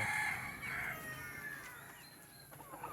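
A stray white hen clucks and calls several times close by on a farm, with rain-soaked outdoor ambience and other birds faintly in the background.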